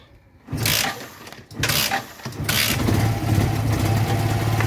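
A Yamaha FZ16 motorcycle cranks over on a cold start, sputtering twice in short bursts before catching and running in a rough, uneven idle, close by.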